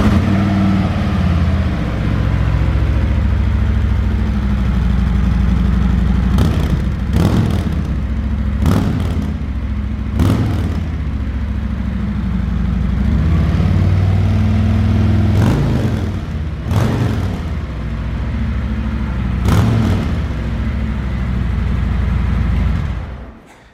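A 2020 Harley-Davidson Road Glide idling and revving with its stock exhaust, a deep steady engine rumble close by, broken by several sharp throttle blips, with no talk.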